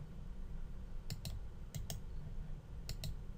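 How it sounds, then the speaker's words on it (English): A few light computer mouse clicks while editing an image in Dreamweaver CC, three quick pairs of crisp clicks spaced apart over a faint room hum, no voices. "if I click off and click back on the image"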